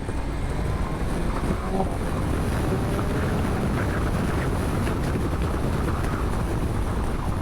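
A BMW M 1000 XR motorcycle rides on a dirty road, its engine and road noise blending into a steady, loud roar buried under heavy wind buffeting on the microphone, with no talk.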